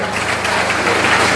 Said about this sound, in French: On applaudit bon Dieu.